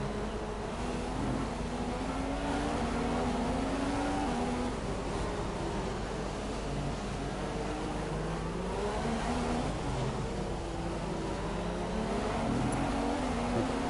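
Formula 1 car engine in the F1 2015 racing game, a steady high revving whine rising and falling through gear changes, with other cars buzzing close by throughout.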